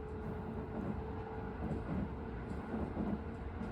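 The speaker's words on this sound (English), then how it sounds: "This is a local train bound for Nagoya" Local Aonami Line train bound for Nagoya, with a steady low rumble of rolling carriages, muffled and moderately faint, without distinct clatter.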